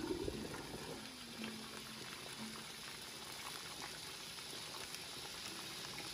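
Water boiling at a rolling bubble in an open water bath canner holding jars of tomato sauce, a steady close hiss and burble that stays level throughout.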